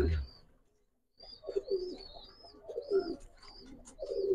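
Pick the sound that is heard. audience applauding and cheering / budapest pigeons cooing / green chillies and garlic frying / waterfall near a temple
budapest pigeons cooing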